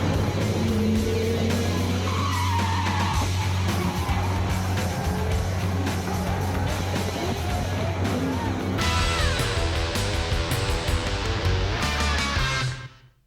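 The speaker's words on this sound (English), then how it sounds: "You can hear those tyres squealing as he slid towards Gardner." V8 Supercars race car tyres squealing as a car slides during a crash-strewn race, high screeching tones over loud engine roar and track noise that cuts off abruptly at the end.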